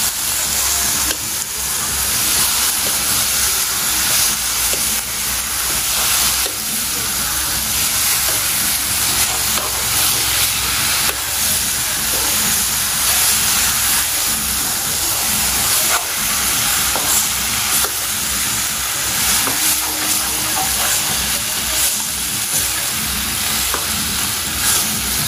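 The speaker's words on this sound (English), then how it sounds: "Mix the meat up with the masala." Duck curry meat and masala stir-frying in a hot pot, Guyanese style, with a loud, continuous sizzle and hiss that holds steady for the whole stretch. No voices are heard.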